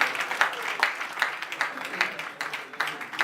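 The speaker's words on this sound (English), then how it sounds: "A round of applause for her" Applause from the audience at an association's annual general meeting in Lagos, a steady wash of many hands clapping at moderate level for about three seconds, with no speech over it.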